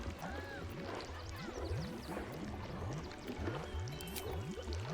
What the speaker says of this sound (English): I wonder why I'm hearing like this bubbling sound so much.